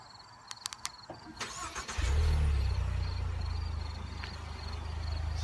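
A 2016 Ford Explorer Limited is remote started: a few faint clicks and chirps, then the engine cranks and catches around two seconds in, settling into a steady, close idle hum with a low rumble.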